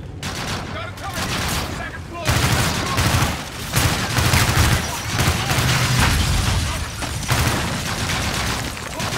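Heavy gunfire and booming shots in the video game Call of Duty Infinite Warfare, with loud rapid bursts and impacts running almost continuously, dense and close, over game noise with a voice talking at times.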